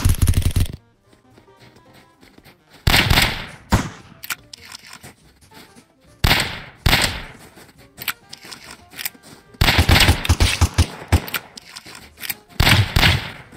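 Shotgun blasts in the Roblox survival game Apocalypse Rising 2, loud booming shots fired in separate bursts with quiet gaps between them, several in quick succession near the end.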